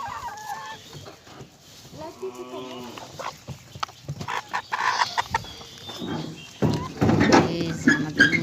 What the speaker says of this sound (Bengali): মুরগিগুলো খাওয়ার জন্য কি করতেছে দেখুন।